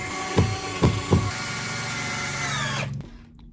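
A power drill drives screws into a camper van subfloor, three sharp thuds followed by a long steady whirring spin that cuts off abruptly.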